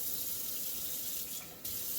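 Tap water running steadily into a measuring cup while making 14-inch cast iron skillet pizza dough, a continuous close hiss and splash that briefly dips before resuming.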